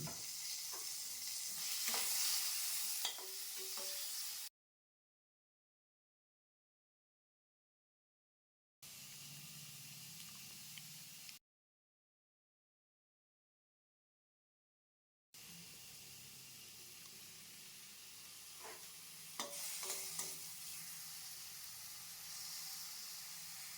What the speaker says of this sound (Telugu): ఇలా సపరేట్గా ఒక్కొక్కటి వేయించుకోవడం వలన అన్నీ బాగా ఏగుతాయి